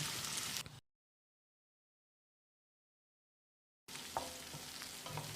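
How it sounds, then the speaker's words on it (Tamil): Steady sizzling as capsicum and curry leaves fry over medium heat in a pan, with faint stirring clinks, broken by a stretch of silence in the middle. "அளவான தீயில் 1 நிமிஷம் இதை வதக்கிடலாம்."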